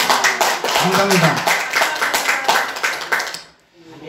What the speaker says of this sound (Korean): 우리 다 함께 박수 한번 치시다